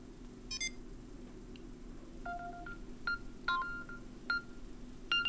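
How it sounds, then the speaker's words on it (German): A smartphone rings after a Samsung Galaxy SmartTag 2 button is pressed twice: a quiet series of short electronic beeps and tones, spaced at uneven intervals over a low background hum, with no talking. "dann fängt das Telefon an zu klingeln und ihr solltet es im Zweifel finden"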